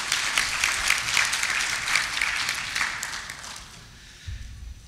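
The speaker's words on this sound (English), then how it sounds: "please give a round of applause for this" A round of applause fills a meeting hall at an annual health sector technical review, moderately loud at first and then thinning out and fading toward the end.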